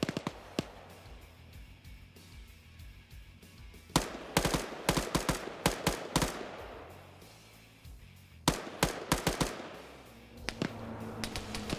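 Bursts of simulated gunfire in a military PvP match, sharp clustered volleys of automatic fire and single shots, some near and loud, others distant, over a steady low rumble, with no talk.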